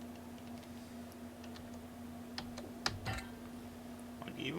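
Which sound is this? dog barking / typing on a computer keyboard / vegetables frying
typing on a computer keyboard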